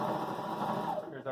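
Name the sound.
Husqvarna Viking Emerald 118 sewing machine sewing a straight stitch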